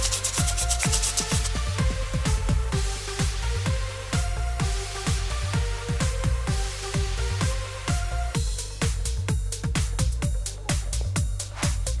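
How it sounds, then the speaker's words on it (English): A 3D-printed lightsaber hilt is rubbed with fine 360 grit sandpaper in quick repeated strokes, a steady rhythmic scratching heard close and alone. "I'm just sanding over the whole thing with a really fine grit of sandpaper"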